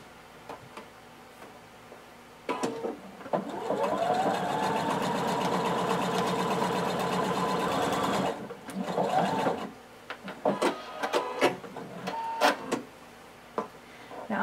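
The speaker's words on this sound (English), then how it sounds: "now we're going to sew using 1/4 inch seam allowance" A domestic sewing machine stitching a lining pocket onto a blazer front at a quarter-inch seam allowance, running steadily for several seconds with a rapid mechanical patter, then a few short bursts and clicks.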